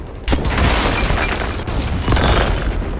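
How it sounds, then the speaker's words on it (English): A loud boom from the video game BattleBit as a building explodes, followed by a roaring, crumbling rumble of debris, then a second burst of noise. "most buildings in this game can explode"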